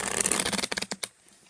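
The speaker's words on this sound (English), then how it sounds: "they shuffle extremely well" A deck of playing cards is shuffled briskly in the hands, a dense riffle of quick card flutters followed by a few separate snaps before falling quiet.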